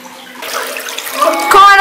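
Water runs and splashes into a damp underground tunnel with dripstone formations, a short close gush that builds toward the end.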